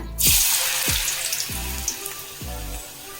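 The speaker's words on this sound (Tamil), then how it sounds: "ஃபர்ஸ்ட் ஒரு 10 கிழங்கு எடுத்து இந்த எண்ணெயில போட்டுருங்க" Pieces of elephant yam dropped into hot oil set off a steady, loud sizzle and crackle, with a few heavier plops and spattering bursts every second or so as more pieces hit the pan.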